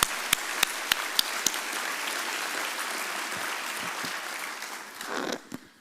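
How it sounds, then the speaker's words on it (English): Staff audience at a spring staff assembly breaking into steady applause, dense clapping filling the room with a few sharp louder claps early on, fading near the end. "I think that calls for a round of applause."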